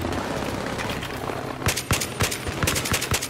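Rapid bursts of automatic gunfire and sharp shots from a Battlefield 3 combat scene, loud and close, starting after a stretch of dense battle noise and continuing in irregular volleys.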